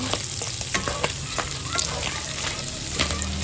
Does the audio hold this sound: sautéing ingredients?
yes